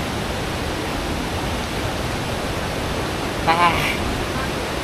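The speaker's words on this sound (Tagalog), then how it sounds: "waterfalls here in the Philippines." A waterfall in the Philippines pours in a steady, full rushing roar, close and even from start to finish, with a brief higher sound poking through near the end.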